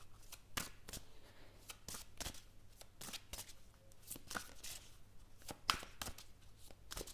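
Kuan Yin oracle cards are shuffled by hand in a quiet room, giving soft, rapid riffling and slapping bursts repeated in an uneven rhythm, close and fairly faint.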